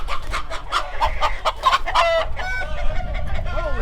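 Chickens clucking and a rooster crowing by a duck house, close and loud, a dense run of overlapping clucks and calls with no talk.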